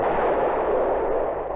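Mortar shell fired and landing as a radio drama effect, a loud, sustained rumbling blast that rolls on steadily without talk.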